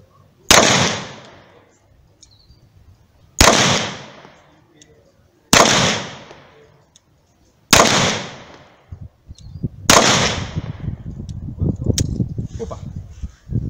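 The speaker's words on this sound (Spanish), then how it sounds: "Vamos a hacer los 5 tiritos de rigor." A Colt 1991A1 Series 80 pistol in 9x19mm fires five loud, sharp shots, spaced about two seconds apart, each ringing out with a short echoing tail, and someone speaks after the last one.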